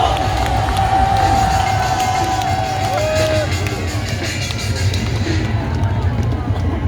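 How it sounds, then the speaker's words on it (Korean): An outdoor crowd at a cold-weather gathering claps and cheers for a pastor taking the stage, a broad loud roar of hands and voices over low rumbling, with a sustained tone sliding early on. "더큰 박수! 더큰 박수!"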